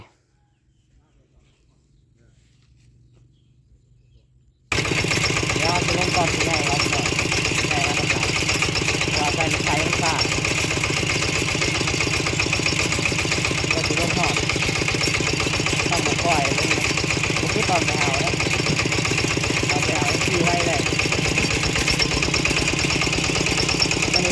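A loud, steady large tractor engine rumbles continuously after starting abruptly, idling without change, with faint bird or rooster calls in the background.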